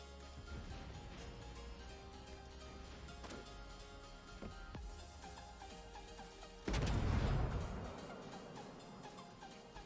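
Guns of the Japanese cruiser Yoshino firing in World of Warships, with a heavy boom about two thirds of the way through over distant rumbling and soft scattered thuds of battle.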